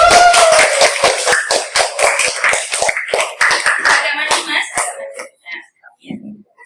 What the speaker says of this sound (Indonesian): Boleh kasih tepuk tangan dong?